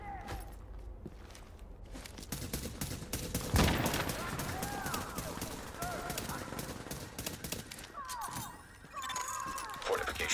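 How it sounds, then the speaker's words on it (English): Rapid gunfire on a fortification in the online shooter The Division, sustained automatic bursts with scattered impacts and a heavy blast, loud and close throughout. "Hostiles are firing on a fortification."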